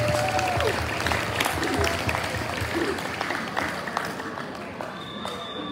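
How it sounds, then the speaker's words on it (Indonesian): A studio audience claps again for two guests on a school podcast. The applause is steady and moderately loud, with crowd noise and faint music tones underneath, and it tapers off slightly toward the end. "Beri tepuk tangan sekali lagi untuk kedua narasumber kita."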